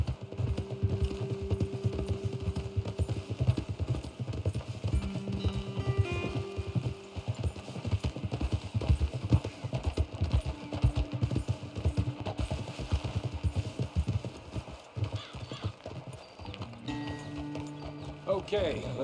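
Horse hooves clop steadily in Red Dead Redemption 2, a continuous rhythmic trot under in-game dialogue and background music.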